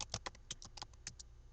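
Quick irregular keystrokes on a computer keyboard while entering vendor contact details into point-of-sale inventory software, about ten crisp clicks in a loose burst, close and clear with no talk.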